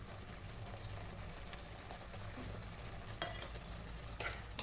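Paneer masala being stirred in a pan over low flame as coriander powder, garam masala, chilli powder and turmeric fry, giving a quiet, steady sizzle with scraping stir strokes and a couple of sharper clinks near the end.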